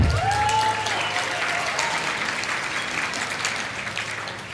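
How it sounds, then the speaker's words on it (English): Guests at a medical college graduation dinner at Rocky Vista University clap together, a thick wash of applause that slowly fades, with a brief voice near the start. "You can clap, yeah"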